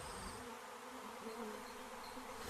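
Honey bees buzz at a hive entrance, a dense, steady droning hum from many insects, continuous and close with no talk.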